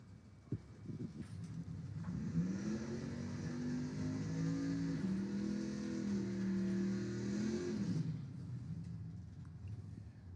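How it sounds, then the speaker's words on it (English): A 1971 Dodge Dart drag car with a 426 engine roars steadily through a long tire warm-up burnout, a sustained rising drone lasting several seconds before it cuts off, heard from a distance at a drag strip. "Richard Ray warming up those tires in that 71 Dart"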